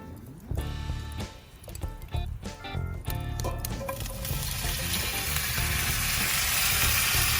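Potatoes laid on a lump charcoal grill, a few clacks and handling knocks before a loud, close sizzle rises and holds steady as they hit the hot grate, no talking.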